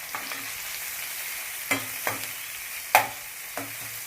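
Prawns and onions frying in a pan, a steady sizzling hiss broken by a few sharp scrapes and clinks of a spoon stirring, close and moderately loud with no voices.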